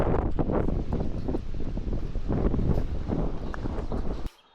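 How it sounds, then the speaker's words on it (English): Strong gusts buffet the microphone outdoors during a run, a steady, loud roaring rumble with rustling bursts that drops away abruptly at the end; nobody speaks. "A little bit windy, but this is fun,"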